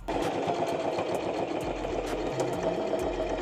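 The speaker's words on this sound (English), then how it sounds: "doing the same exact thing, sewing this down" A sewing machine stitches a denim tote bag panel cut from old jeans, running in a steady, continuous close-up whir with a low motor hum and rhythmic needle ticking, no talk over it.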